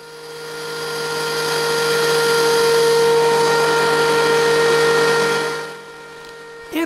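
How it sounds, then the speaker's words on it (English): A wood planer feeds a jointed board face down on its bed, giving a steady loud machine whine with strong tonal hum for about six seconds, then dropping away abruptly near the end with a brief clunk. "When we start to plane the board, we put the surface of the board we had just finished jointing face down on the bed of the planer."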